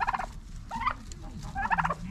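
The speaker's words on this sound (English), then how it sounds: "Old Thomas and Darlene, the turkeys" Tom turkeys gobble close by in three distinct rattling bursts, one right at the start, one near the middle and one toward the end, with quieter farm noise between.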